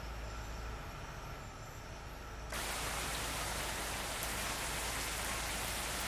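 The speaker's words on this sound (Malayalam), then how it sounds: "മഴ തുടങ്ങിയിട്ടുണ്ട്." Rain starts suddenly in a video game near a parked bus, a dense, steady hiss of falling drops that stays constant after it begins.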